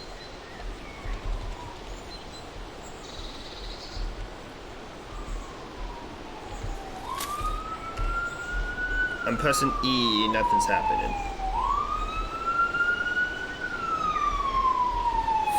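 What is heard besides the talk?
police sirens in the video game Last Camp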